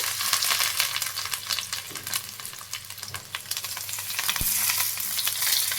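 Steady sizzling and crackling as lentil paturi wrapped in pumpkin leaves fry in a pan over a low gas flame, continuous and close with occasional soft taps.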